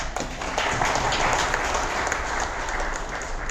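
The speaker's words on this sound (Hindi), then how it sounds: "गॉड के लिए भी हम ताली बजा सकते हैं।" Loud, dense audience applause in a hotel event hall after a guest speaker's talk, with steady clapping and no voices over it.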